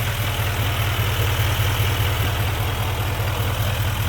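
The 6.6-liter Duramax turbo-diesel V8 of a 2025 GMC Sierra 2500HD Denali Ultimate idles with a steady, even low rumble and constant hum, loud and close with no voices.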